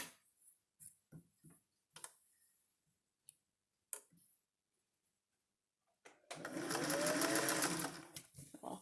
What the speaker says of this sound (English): I'll finish all the stay stitching.